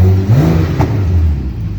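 A Ferrari engine starts and revs up close as the car is moved, a loud rising mid-pitched roar that swells and then settles into a steady hum.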